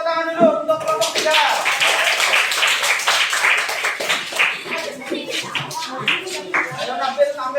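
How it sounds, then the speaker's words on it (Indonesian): Students in a classroom give group 3 a round of applause. The clapping is close and uneven, with overlapping claps for several seconds and voices chattering through it. "yuk beri tepuk tangan dulu untuk kelompok 3"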